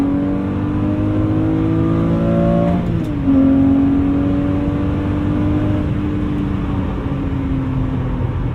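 A Lamborghini Murciélago V12 engine revs loud and close, its pitch sliding and dipping, then settling into a steady high drone.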